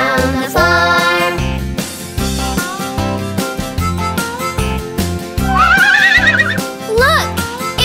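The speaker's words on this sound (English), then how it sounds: "The pretty old horse says nay, nay, nay." Repeated horse whinnies over a bouncy children's farm song with strong bass and melody, the neighs rising and falling in pitch near the end.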